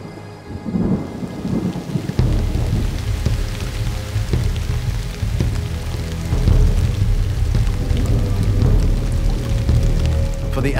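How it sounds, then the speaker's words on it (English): Heavy rain pours down steadily while deep thunder rolls and rumbles throughout, loud and close, with a dense hiss of rainfall over the low booms. "For the animal life, a heavy rain is the equivalent of a tsunami."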